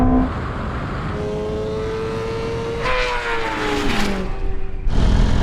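Ferrari SF90 supercar and BMW M superbike in a roll-on drag race from 50 in third gear, engines rising in pitch together, loud and close, then a brief gearshift drop and a fresh surge.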